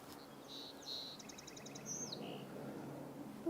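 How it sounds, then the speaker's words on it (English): A bird sings a short, faint varied phrase of clear notes and a rapid trill, heard at a distance over a quiet outdoor background. "That'd be the song sparrow."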